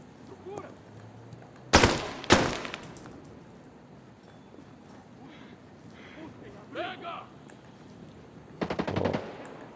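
Gunfire from an RX-200 rifle in the video game Ghost Recon: two sharp, loud bursts early on, later a longer rattling volley, with in-game chatter and background ambience between shots.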